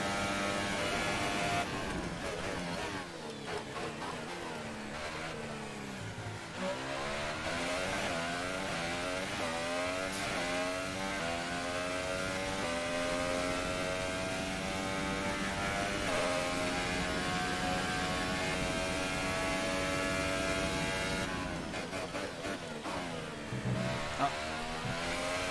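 Engine of a Formula 1 car in the F1 2018 racing game at the Italian Grand Prix, a high-pitched whine rising repeatedly through the gears with brief drops at shifts and braking, loud and sustained throughout.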